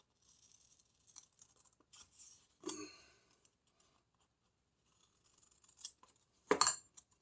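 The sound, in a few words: scissors cutting paper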